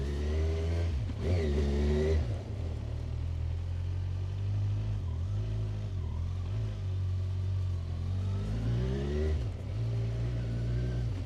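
A Kawasaki Ninja 1000 sport motorcycle engine revs and accelerates up close, its rumbling pitch climbing and dropping several times as it rides away and back.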